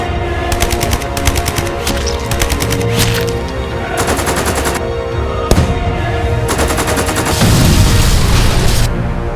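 Rapid machine gun bursts rattle in loud repeated volleys, with booming impacts and a heavier rumble near the end, all part of a Lego World War 3 battle animation with no voices.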